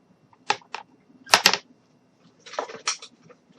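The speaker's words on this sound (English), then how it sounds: "So I am going to take my scissors and cut this off." Scissors snip through a butterfly sticker in separate short bursts, a pair of quick cuts near the start, a sharp double snip in the middle and a cluster of crisp cuts toward the end, close and clear with quiet between them.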